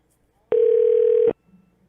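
A phone call failing to connect gives a single steady electronic tone lasting under a second, loud and clean, followed by a brief faint murmur.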